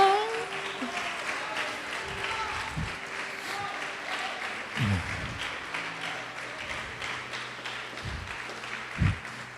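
Church congregation applauding in a steady, moderately loud wash of clapping over sustained low tones, with a few heavier thumps scattered through.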